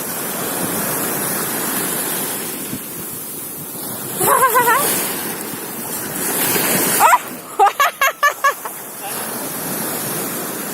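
Sea waves washing ashore in a continuous loud rush of surf, broken by short bursts of excited voices and a string of rapid shouts near the end.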